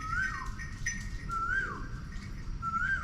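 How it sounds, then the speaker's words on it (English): Birds chirping outdoors on a Thai morning, three clear rising whistled calls repeated at even intervals over soft background ambience. "Love the sound of the birds."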